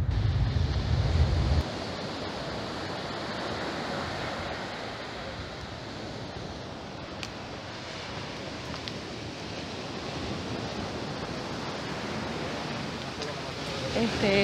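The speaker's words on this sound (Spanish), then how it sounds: "Están rompiendo las olas." Rough Atlantic Ocean waves break against concrete blocks in a constant heavy roar of surf, mixed with strong wind buffeting the microphone and a brief louder gust at the start.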